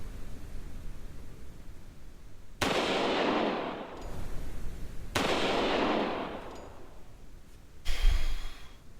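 Bombing raid and cannon fire in the video game Lure: two long, roaring blasts of broadband explosion noise, each lasting over a second, followed by a shorter heavy boom with a low thud.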